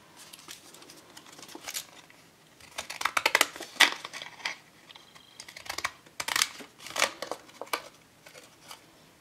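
Scissors or a blade cut through a cover flap for a baby album, a close series of crisp snips and papery crunches in uneven bursts, with quieter handling rustles between them.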